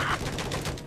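Machine gun fire at helicopters in Battlefield 4, a fast run of gunshots at moderate volume with a brief metallic rattle at the start, no voices.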